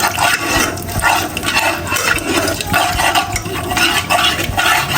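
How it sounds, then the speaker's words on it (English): Sugar being stirred into oil in a pot for popcorn gives a loud, continuous scraping swish close by, with rough rhythmic strokes and no voice. "You stir the sugar to mix with the oil."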